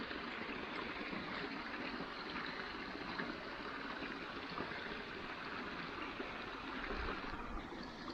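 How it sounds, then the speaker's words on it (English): Waterfall beside a moorland hiking trail, a steady rushing splash of falling water, fairly faint and continuous for several seconds, no speech. "waterfall."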